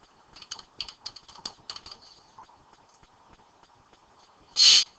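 Keys tapped on a computer keyboard to enter a username and password, a quiet run of light irregular clicks that thins out, ending in one loud short burst.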